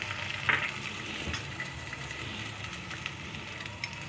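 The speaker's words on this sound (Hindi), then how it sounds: "इसके बाद हम प्याज फ्राई करेंगे।" Onions frying in oil in a cooking pot, giving a steady broadband sizzle with a brief crackle burst near the start and no voices over it.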